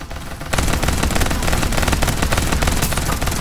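Rapid automatic gunfire in the battle royale game Farlight 84 erupts after a brief quieter moment and continues as a dense, loud stream of shots to the end.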